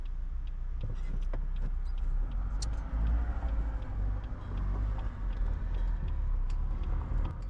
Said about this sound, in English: these cars are spaced out just right